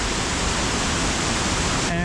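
Kuang Si Waterfall pours with a steady, loud, broadband roar of rushing water that fills the whole moment without pause.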